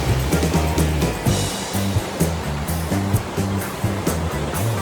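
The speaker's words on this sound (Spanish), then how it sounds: "vas sintiendo el ruidito del agua" A stream beside a forest trail gives a steady, close rush of flowing water, with a low rhythmic pulsing running underneath.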